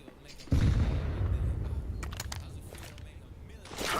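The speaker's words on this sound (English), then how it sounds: "Throwing a grenade." A thrown grenade goes off in a video game with a sudden heavy boom that rolls into a long rumbling decay, while other bursts and noises sound around it during the match.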